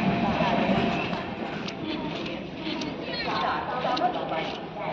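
Tutari Express (Dadar–Sawantwadi) standing at a station platform: a steady low rumble of train and station noise runs throughout, with crowd chatter and announcements blending over it at moderate loudness.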